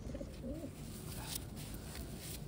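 Taiwan pigeons coo in a loft, a faint, low repeated murmur over steady background noise.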